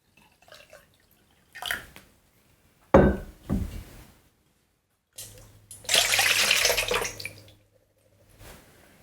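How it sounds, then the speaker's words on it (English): Tap water runs in short bursts, splashing and trickling into a container of sprouts, with a longer steady pour near the middle and quiet gaps between. "I just always give them a rinse every time"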